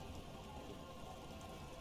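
Steady rain falls in the video game Disco Elysium, an even, continuous hiss of drops at moderate level with no break or talking.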